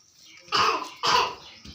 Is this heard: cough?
yes